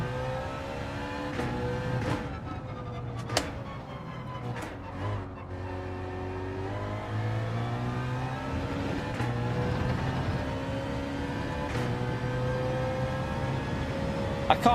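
A race car in Gran Turismo 7 revs and accelerates through repeated gear changes, its engine note climbing and dropping in loud, steady waves with brief shift breaks throughout.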